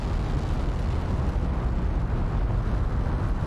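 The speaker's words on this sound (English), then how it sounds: "Hear those engines roar." Rocket engines at liftoff in Kerbal Space Program 2 give a loud, continuous low-heavy roar, dense and unbroken, with no voices over it.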